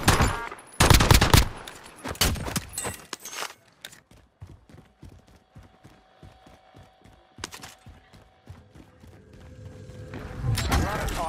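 Video game gunfire crackles in sharp bursts and rapid runs of shots, loud at first and then quieter and spaced out, with players talking over and between the shots.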